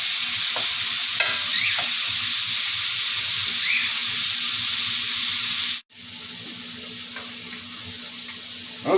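Hamburger meat cooking in a cast iron pot for spaghetti sauce, a loud, continuous close-up sizzle and crackle that dips sharply for a moment before resuming.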